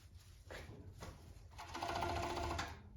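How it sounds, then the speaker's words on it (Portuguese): An overlock sewing machine stitches polyester fabric for a winter pajama, its fast even whir rising after a few brief starts and running steadily for about a second before stopping, close and alone. "Você coloca aqui e já passa aqui na overlock"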